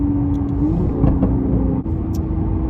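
A 1400hp Mercedes C63 drives along, its engine a loud steady low rumble heard from inside the car with a slight shift in pitch midway.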